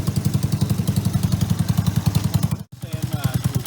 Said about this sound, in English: Riding more motorbikes.